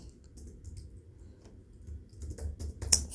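Quiet typing on a computer keyboard, a loose run of soft clicks that grows busier and louder toward the end, with no talking.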